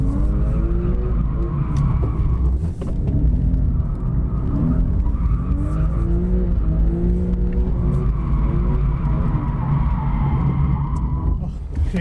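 A car spins out while drifting on a track, the engine revving and falling with tire squeal and skidding over about twelve seconds, close and loud, with people talking throughout.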